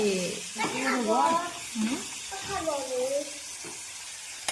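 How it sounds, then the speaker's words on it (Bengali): Fish fries lightly in a pan, giving a steady, gentle sizzle and hiss that runs underneath a person talking throughout. "হালকা করে ভাজতে হবে"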